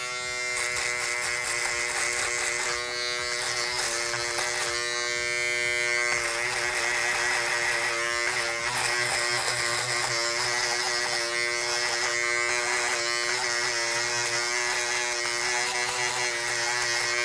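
An electric shaver buzzes continuously up close during a barbershop mid taper fade haircut, its whine shifting slightly as it moves, with no voices.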